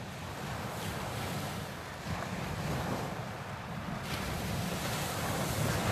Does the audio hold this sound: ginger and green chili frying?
no